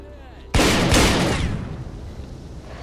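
A single loud, close gunshot in the video game S.T.A.L.K.E.R.: Call of Pripyat, a sharp blast followed by a long decaying echo, with faint speech before it.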